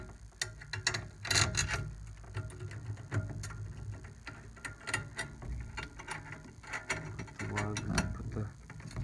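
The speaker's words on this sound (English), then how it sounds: "Put the tension rod into the lug casing and tighten it up." Snare drum tension rod being turned into its lug casing, a rapid run of small metallic clicks and ratcheting ticks, close and fairly steady over a low room background.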